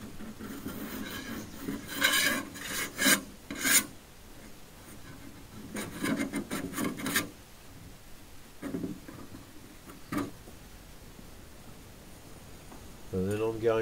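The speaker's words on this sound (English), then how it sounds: "you'll be able to see how I just make sure that there's nothing left in that seam with the scraper" A scraper works along a rusty seam in a Land Rover body, making intermittent bursts of scratchy, rasping strokes separated by quieter gaps, fairly close.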